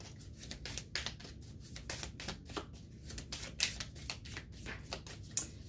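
A deck of oracle cards being shuffled up close: repeated quick riffling flutters and soft slaps that come in an uneven rhythm of short bursts against a quiet room.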